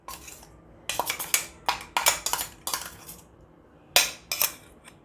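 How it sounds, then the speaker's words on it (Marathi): A spoon scrapes a crushed Parle-G biscuit mixture for modak out into a bowl, making a series of short, close clinks and scrapes of utensil against dish in irregular bursts with brief pauses between. "हे मिक्सचर एका बाउलमध्ये काढून घेणार मी"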